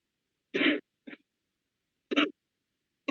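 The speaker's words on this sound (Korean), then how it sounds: "기침하시는가 보네요" Coughs and throat clearing heard over a Zoom meeting connection: a harsh cough, a short follow-up rasp, then two more throaty bursts separated by silence, close and fairly loud.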